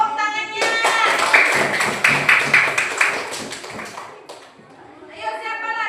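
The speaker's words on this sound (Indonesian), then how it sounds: "Beri tepuk tangannya" Children in a classroom clap together for several seconds in a dense, rapid burst of hand claps, with a teacher's voice before and after.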